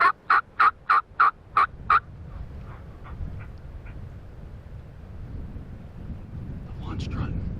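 A wild turkey gobbles on an opening-day hunt: a rapid string of about seven loud, near calls, after which strong wind rumbles and buffets the microphone steadily to the end.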